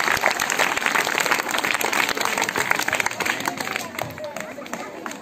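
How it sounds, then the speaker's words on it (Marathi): A school audience claps in applause at an event, a dense patter of many hands close by that gradually thins out toward the end, with some crowd murmur underneath. "एकदा टाळ्या वाजून त्यांचं अभिनंदन"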